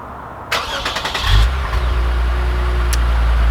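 A 2020 Lexus IS 350 F Sport engine starts by remote start. A sharp click is followed by the cranking whir, a brief rev, and then a steady close idle.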